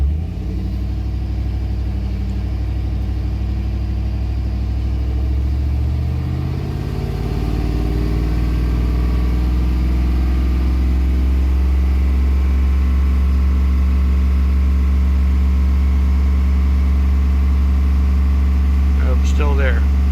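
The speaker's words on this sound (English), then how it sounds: "I'm gonna go ahead and rev it up again and see what happens" A car engine with a newly installed motor, just started for the first time after an oil change, idles loudly close by, then revs upward and settles into a steady, deep hum while someone talks nearby.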